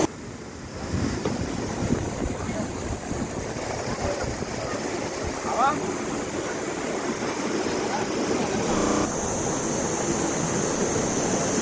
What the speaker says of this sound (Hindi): कहीं पीछे से आ रहा है पानी पहाड़ों से